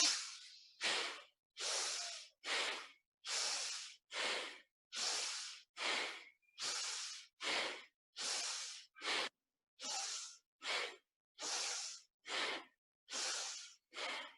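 A person in a hatha yoga class takes a run of forceful, rhythmic breaths, about ten breath cycles with sharp airy bursts and brief silences between, close and loud with no speech.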